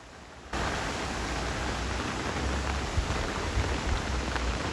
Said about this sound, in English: Up high, it's raining pretty good.